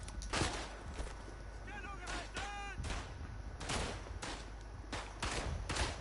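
Rifle shots from the video game Verdun sound as a series of sharp, loud cracks spaced irregularly over several seconds, over a constant battlefield rumble, with a voice briefly talking in between.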